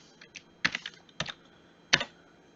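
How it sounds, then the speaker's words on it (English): Several quick computer keyboard keystrokes come in small clusters, close and clear, as a name is typed, with quiet pauses between them. "now we can go and just type in the name integer 2"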